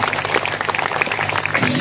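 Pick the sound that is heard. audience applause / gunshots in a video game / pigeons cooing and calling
audience applause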